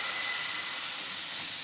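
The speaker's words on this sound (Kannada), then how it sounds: "ಸೊ ಈಗ ದೋಸೆ ಹಾಕ್ಕೊಳ್ತೀನಿ." Rava dosa batter is poured onto a hot griddle and sizzles. A loud, close, steady hiss holds for under two seconds.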